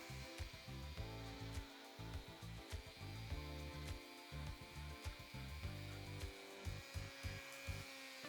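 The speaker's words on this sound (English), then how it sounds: "especially after the fine polishing wheel, extra fine polishing wheel, which I just found right here" A guitar's frets are buffed with an extra fine polishing wheel on a rotary tool, a faint continuous whirring hum with rhythmic rubbing pulses as the wheel passes over the frets; no speech.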